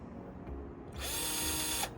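A power drill whirs steadily for about a second as it drives a screw into a MaxxFan Deluxe base during a van roof install. The burst is close and starts after a quiet moment.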